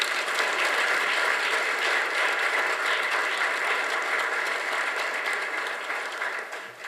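Applause fills a hall at a film success celebration, a dense, steady wash of many hands clapping that holds strong and fades slightly near the end.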